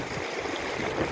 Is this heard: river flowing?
yes